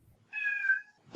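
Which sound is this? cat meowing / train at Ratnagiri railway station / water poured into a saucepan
cat meowing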